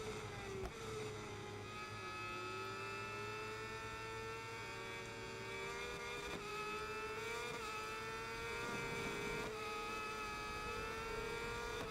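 Honda superbike engine in the SBK 22 motorcycle racing game, a continuous high-revving whine that holds steady with small pitch shifts over the whole stretch, no voices.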